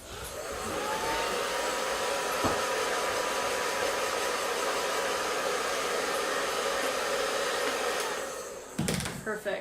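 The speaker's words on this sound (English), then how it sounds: "I'm gonna go ahead and take a hairdryer to it just to make sure" A hair dryer blows in a loud, steady whir for about eight seconds while drying a chalk and wood stain craft piece, then cuts off, followed by a few brief clatters.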